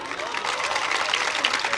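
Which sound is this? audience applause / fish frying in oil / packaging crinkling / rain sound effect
audience applause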